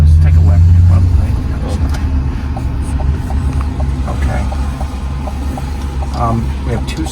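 Cadillac LYRIQ electric SUV cruising on a freeway, with a loud, steady low road and wind rumble throughout and voices talking inside the cabin.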